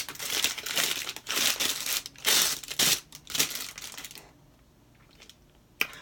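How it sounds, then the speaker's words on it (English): A small piece of paper is picked up and unfolded, with crisp crinkling and rustling in several bursts that trail off into near silence. One sharp tap comes at the very end. "so I pick up a little paper."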